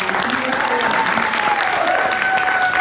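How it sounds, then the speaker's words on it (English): A crowd applauds steadily and loudly throughout, a dense wash of clapping with a faint whistle-like tone running beneath it. "can we get a major round of applause for Kathy for putting together"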